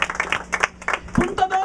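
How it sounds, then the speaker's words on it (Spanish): Congregation in a church clapping, a short burst of scattered applause mixed with a voice speaking over it. "Pues dale el primer aplauso al Señor."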